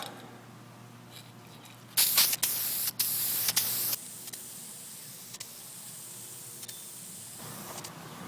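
An aerosol can sprays a coat of paint onto the plastic grille of a Crown Victoria Police Interceptor, a close, loud hiss lasting about two seconds with a brief break partway through, followed by quieter hiss and a faint background hum.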